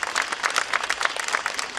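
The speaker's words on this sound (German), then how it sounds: "das ist dein Applaus" A crowd at a German political rally applauds a European Parliament candidate, continuous close clapping with fairly even loudness through a short stretch.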